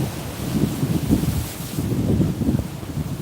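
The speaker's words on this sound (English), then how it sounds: "I just wish it wasn't like as windy" Gusty wind on a seaside cliff buffeting the microphone in low rumbling waves, steady and loud, with no other clear sounds.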